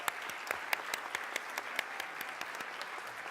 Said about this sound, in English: I would like to give them a big round of applause for that